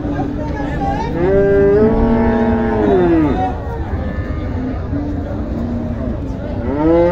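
A cow moos repeatedly at a cattle market in Joypurhat, where Sahiwal and dairy cattle are sold; the long, loud calls rise and fall close by, with people talking in the background.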